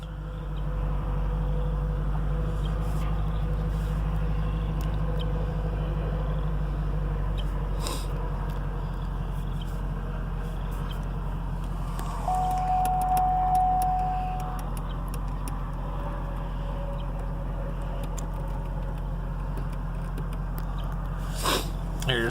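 A 2011 Cadillac CTS-V Coupe, a salvage car with theft damage, idles steadily with a low, even engine rumble throughout. A few light clicks and rattles occur nearby.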